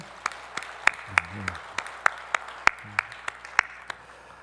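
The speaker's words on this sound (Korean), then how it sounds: "네, 우리 박수 하시겠습니다" A church congregation at a Sunday service in Sinchon Church claps to console a bereaved family. The claps are sparse, sharp and fairly evenly spaced rather than a dense roar, with brief low voices murmuring underneath.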